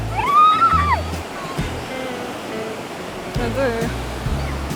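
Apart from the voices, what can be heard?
ocean waves breaking on a California beach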